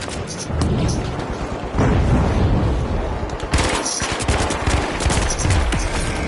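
Rapid automatic gunfire and bursts of shots in the online shooter game The Finals, loud and dense, running nearly continuously with short gaps.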